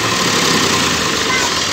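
A tractor engine runs at a steady idle nearby, a loud, continuous rumbling drone with no breaks throughout.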